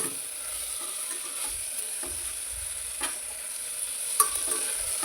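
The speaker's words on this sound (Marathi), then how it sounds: "तिने तर ना भाताला फोडणी दिली आहे" Spices sizzle steadily in hot oil as a tempering for pulao rice, with a spoon scraping and stirring the pan at intervals and a sharp clink near the end, all close by with no talking.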